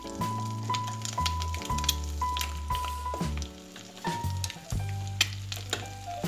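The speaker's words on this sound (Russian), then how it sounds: "Хорошенько перемешиваем, чтобы оно соединилось все вместе, мука и масло." Flour is stirred into about 40 grams of melted butter in a hot pan, giving a steady close sizzle and frying crackle broken by repeated scraping stir strokes.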